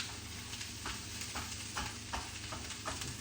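Sriracha being stirred into chicken fried rice in a hot pan: a continuous close sizzle broken by repeated scraping strokes of the utensil, roughly every half second.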